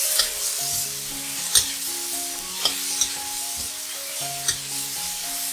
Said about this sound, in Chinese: 辣椒片，炒均匀。